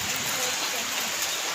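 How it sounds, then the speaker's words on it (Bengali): Rain falls steadily in a broad, even hiss of drops on surfaces, brief and unbroken, with no clear talk over it. "এখন বৃষ্টি দিচ্ছে, অনেক ভালো লাগছে।"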